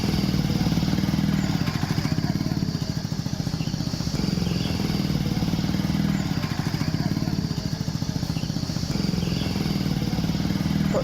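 A motorcycle carrying seven people, including children and women, runs along the road with a steady close engine drone and rattling clatter throughout, the noise holding fairly constant with no clear talk over it.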